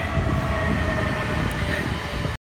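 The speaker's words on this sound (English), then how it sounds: "Train." A train rumbles past close by in the Scottish Highlands, a loud continuous roar of wheels and rails with a faint high whine, cutting off abruptly.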